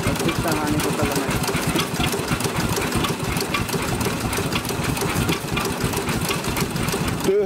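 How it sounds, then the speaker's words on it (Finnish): Old engines idle at a festival day at the old Suolahti station, a steady rapid mechanical chugging that runs loud and unbroken throughout, with people talking nearby. "Tyhjää ne nyt jauhaa tässä nämä koneet."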